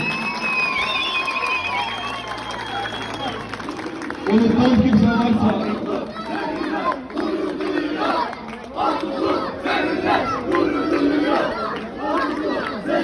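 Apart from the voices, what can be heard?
crowd applause and cheering at a rally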